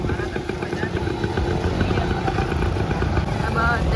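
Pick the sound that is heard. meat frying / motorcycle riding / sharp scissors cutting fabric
motorcycle riding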